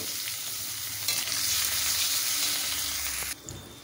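Chopped onion and garlic drop into hot oil with bay leaf, dried chilli and cumin, giving a close, steady sizzle that swells as stirring begins, then drops suddenly near the end.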